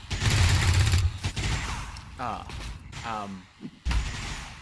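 Rapid mechanical gunfire from a mech laying down suppressing fire in XCOM 2 rattles loudly in a dense opening burst, followed by thuds and scattered mechanical clanks, with a voice talking over the later part.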